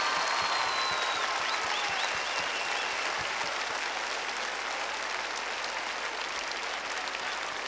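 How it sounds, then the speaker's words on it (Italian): Audience at an outdoor festival show in the Arena di Verona applauding loudly and continuously, a broad wash of clapping from a large crowd with no talk over it. "Fategli un applauso di quelli veri perché sta tremando."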